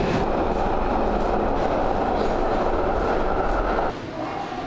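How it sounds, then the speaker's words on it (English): A train departing Waterloo station rumbles loudly and steadily nearby, a broad roaring wash of rail noise that drops off slightly near the end. "That's my train."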